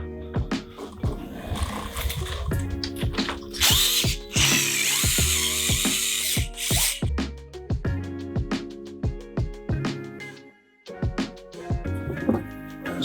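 A ratchet tightens bolts on a Onewheel GT during a bearing change, with rapid clicking bursts and clanks of metal tools close by, loud and uneven in rhythm.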